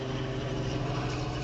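A tourist helicopter flies overhead near Walt Disney World, a steady, loud droning engine hum with a constant low throb, with no voices.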